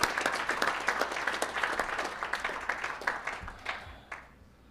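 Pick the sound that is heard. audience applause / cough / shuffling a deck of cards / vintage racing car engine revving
audience applause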